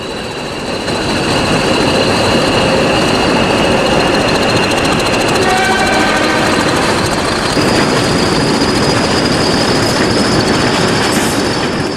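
British diesel locomotives 20081 and 20016 rumble past hauling a heavy train of tank wagons, a constant loud roar with wheel squeal and clatter throughout.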